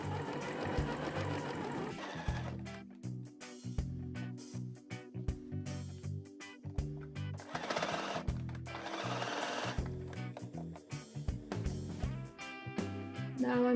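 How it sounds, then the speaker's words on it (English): A sewing machine stitches a shirt collar during a shirt-to-dress upcycle. The motor runs in rapid mechanical bursts with short pauses between runs, close and steady throughout. "Now I'm sewing the collar"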